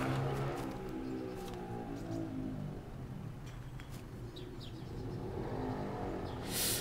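A motorcycle engine in the DayZ video game drones and revs steadily throughout, with faint bird chirps scattered in the background and no talk.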